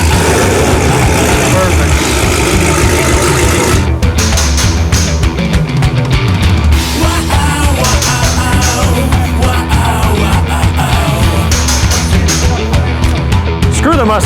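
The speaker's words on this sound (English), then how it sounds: "Let it idle, let it try and do its thing." A car engine runs on a dyno with a steady, loud, buzzing idle and some uneven rumble, with someone talking over it.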